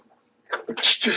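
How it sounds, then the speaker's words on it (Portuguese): One sharp sneeze from a teacher in the middle of a programming class: a quick intake of breath, then an explosive burst, close and fairly loud. "Vontade de espirrar, alergia, tudo."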